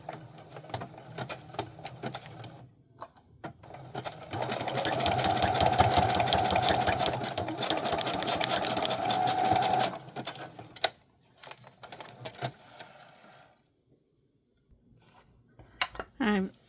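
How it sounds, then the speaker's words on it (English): A home sewing machine stitches across the top of a vintage photo, a fast rattling hum that runs steadily for several seconds, with lighter clicks and handling noises before and after. "I'm going to take this over to my sewing machine and sew across the top."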